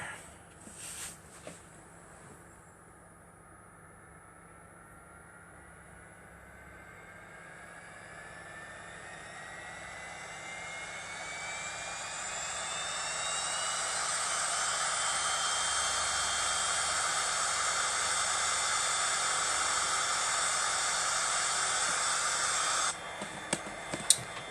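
Cessna 208 Caravan single turboprop engine starting up on a Caribbean island-hop flight, a whine rising steadily in pitch over about fifteen seconds into a loud, constant running roar heard from inside the cockpit.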